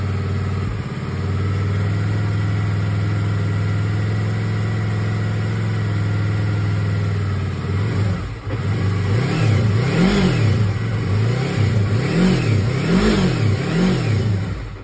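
A Yamaha R3 motorcycle engine starts, settles into a steady idle, then is revved repeatedly in rising and falling blips, loud and close.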